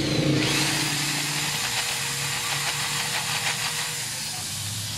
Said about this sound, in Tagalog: At gamit barena, carbide na malaki.